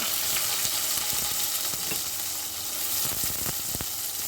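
Chopped onion fries in hot oil with cumin and mustard seeds for a spicy Malvani green peas dish, a loud steady sizzle broken by scattered pops and stirring scrapes, with no talking.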